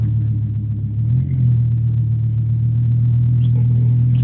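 A Volvo 850 engine warming up while being driven slowly gives a steady, loud low rumble with a sustained mid-pitched drone that rises slightly after the first second, with no talking over it.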